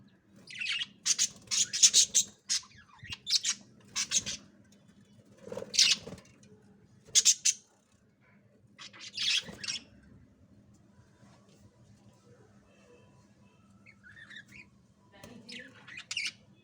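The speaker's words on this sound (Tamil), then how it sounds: "இதில் வந்து 5 பேபி பேர்ட்ஸ் இருக்குது" Five baby budgie chicks squawk in a nest, giving short bursts of harsh, high-pitched calls in irregular clusters with brief pauses, close by and fairly loud over a low steady hum, then softer chirps near the end.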